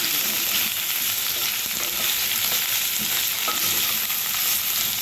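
Pork for adobo fries in a pan with onions, giving a steady, loud sizzle that holds evenly throughout with light stirring scrapes and no talking.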